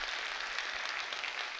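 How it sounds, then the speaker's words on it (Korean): A church congregation at Gunsan Seonggwang Church applauds in a short, dense burst of many hands clapping together, steady and fairly near throughout. "크게 우리 박수 한번 해주셔요"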